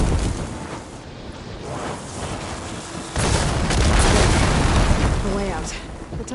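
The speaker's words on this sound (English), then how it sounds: "Hitting those blaze barrels with fire ammo should do the trick." Blaze barrels struck by fire ammo explode in Horizon Forbidden West, a loud, sustained roaring blast that swells midway and rumbles on, while a voice talks over the game sound.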